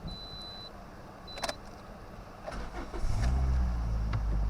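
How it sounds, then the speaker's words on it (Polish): A Toyota RAV4 2.0 petrol engine cranks and catches near the end, settling into a steady idle after a few faint clicks and thumps in a quiet space. "odpalmy może tego sprzęta, zobaczmy jak silniczek chodzi"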